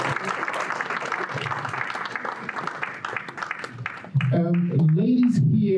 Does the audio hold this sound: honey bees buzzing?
no